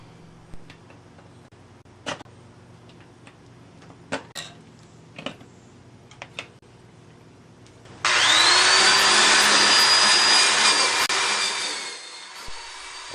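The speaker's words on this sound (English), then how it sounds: "A wire brush takes care of the rust on the rim." A wire brush scours rust from a 40-year-old bicycle rim, a loud, continuous harsh grinding and scraping that starts suddenly after scattered light clicks and knocks, runs for about four seconds, then fades.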